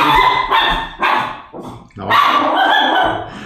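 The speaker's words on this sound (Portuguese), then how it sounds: "tem uma cachorrada latindo aqui do lado e eles querem interagir" Several dogs barking close by in a home, repeated overlapping barks and yips in bursts with brief pauses, loud and near, no talk.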